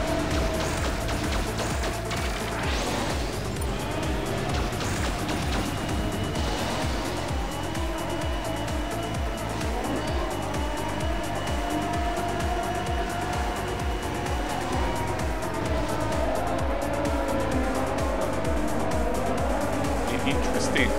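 Jet ski engine in the Riptide GP2 racing game, echoing inside a cave: a loud, steady droning whine with pulsing low throbs that runs continuously, with someone talking over it at times.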